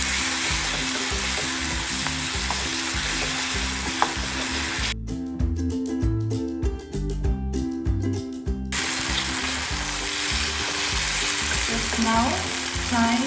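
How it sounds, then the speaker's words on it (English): Whole chilies with their stalks frying in hot oil, a steady close sizzle with stirring clatter and a short interruption midway, then more crackling, with no voices. "I'm now gonna add the chilies along with its stalks."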